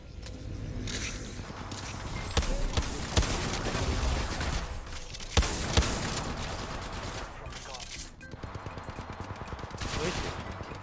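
Weapon gunfire in Apex Legends Mobile, rapid bursts of shots with sharp cracks mixed with footsteps and other game noise, and a voice talking in between.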